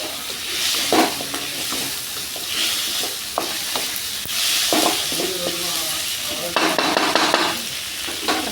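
Tomato pulp from soaked tamarind, with onion and garlic, sizzles and fries in a pan for fish curry, with steady hissing broken by repeated scraping stirs of a spoon against the pan.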